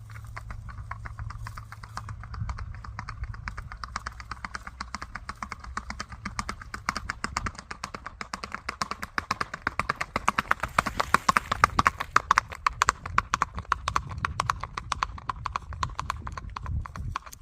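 A seven-to-eight-year-old racking mare in Kentucky gaits steadily, her hooves striking in a rapid, even clip-clop rhythm that continues without a break throughout and builds slightly louder in the middle.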